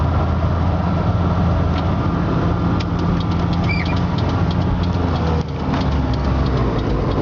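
A Suzuki 413 Samurai challenge truck drives along with a steady, droning engine hum and heavy road rumble from inside the cab, continuous and moderately loud throughout.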